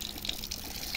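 Water runs steadily from a tap on a disused railway platform in Kochi, Kerala, a close, continuous hissing splash with no pauses.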